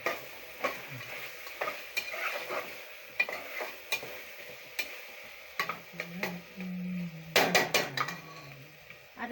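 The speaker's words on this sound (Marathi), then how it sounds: "आता याच्यामध्ये आपण खोबरं किसलेलं आहे ते टाकायचं।" Grated coconut tipped into a frying pan of sautéed ingredients and stirred, with close, repeated scraping strokes of a spoon against the pan over a soft, steady sizzle, and a few sharper knocks near the end.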